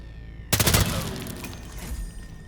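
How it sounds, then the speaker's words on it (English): Gunshot in the video game Hitman Freelancer, a single sudden loud blast followed by a long echoing decay that fades gradually over two seconds. "someone definitely heard that gunshot"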